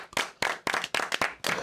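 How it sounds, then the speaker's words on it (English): Several loud, close hand claps in an uneven rhythm during a podcast interview, with short pauses between the claps and no talk over them. "So we want to clap that up"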